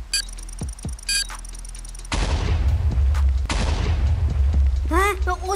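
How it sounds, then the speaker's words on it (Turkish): Cars blowing up in the Minecraft video game: a sudden loud blast swells into a sustained, rumbling roar with crackling debris, and a shorter burst follows, under earlier game sounds. "Olamaz, bir şey patladı, bir şey patladı."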